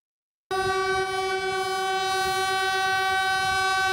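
A Puyuma express train sounds a long, steady horn blast as it passes a railway accident site, starting abruptly after a brief silence and holding loud and unbroken to the end.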